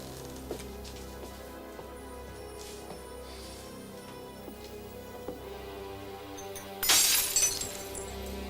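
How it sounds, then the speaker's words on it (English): A drinking glass shatters indoors, one sudden bright crash with tinkling fragments after a stretch of quiet room tone and faint background music. "I broke a glass."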